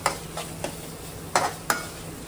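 A spoon stirs chicken curry in a pan, giving several scraping strokes with two louder ones near the end, close-up over a faint sizzle and no talk.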